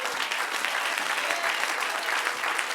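A church congregation breaks into sustained, loud applause during a sermon, steady clapping filling the whole moment with no talk over it.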